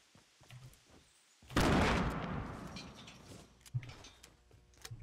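A grenade blast in the Fortnite video game bursts out as a sudden loud boom with a long, rumbling decay, set between scattered quieter clicks and shots in the game's surroundings.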